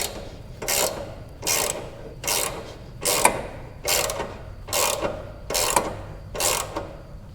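Wrench or ratchet turning the deck adjustment nut counterclockwise on a John Deere E120 riding mower, giving eight evenly spaced rasping ratchet strokes, close and fairly loud, with no talking.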